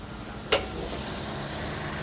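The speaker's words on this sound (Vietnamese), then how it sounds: "Máy đổ cực êm luôn." A Toyota Vios 1.5 engine idles in a quiet, even low hum. A single short click sounds early, and the smooth drone continues afterward.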